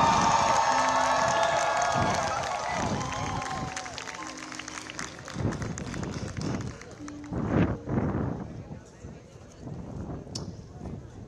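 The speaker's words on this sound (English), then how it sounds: "I ask that you join me in giving her a thunderous eagle round of applause." At a Coppin State University Class of 2022 commencement, a large crowd applauds and cheers, with a rising wave of clapping, whoops and shouts that swells, fades and returns in bursts, with voices mixed in.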